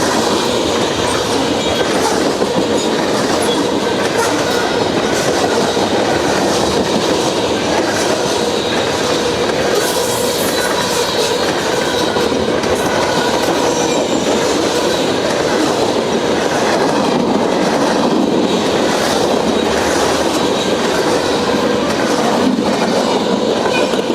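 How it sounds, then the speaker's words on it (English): CSX M503, a southbound freight train, rolls past continuously for the whole stretch with loud steady rumble, rhythmic clickety-clack of wheels over rail joints and occasional metallic wheel squeal. No one speaks. "CSX M503 southbound"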